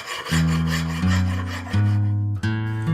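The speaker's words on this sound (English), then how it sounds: "Hand sand it in, get the right shape, a nice smooth finish." Hand sanding of a wooden axe handle gives firm, rhythmic rasping strokes, three or four long scrapes in a steady back-and-forth, close and clear with no voices.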